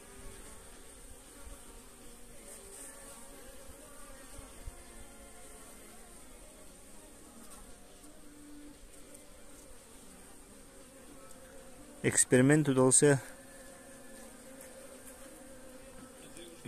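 Honey bees buzz steadily around a queen they are feeding after she was introduced into another colony, a close, even hum with one brief louder burst near the end and a short spoken remark.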